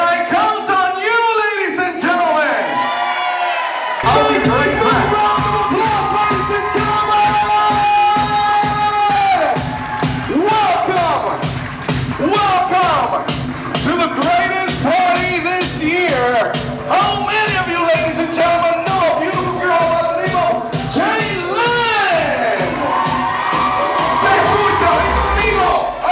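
A party crowd at a Queens banquet hall for a sweet sixteen or wedding screams and cheers loudly and continuously, with whoops and yells layered over thumping music throughout.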